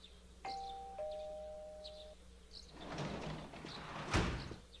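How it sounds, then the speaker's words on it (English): A doorbell chimes in the Persona 4 video game, two clear bell tones in quick succession, followed by softer rustling and a sharp knock-like thud near the end. "You hear the doorbell ringing."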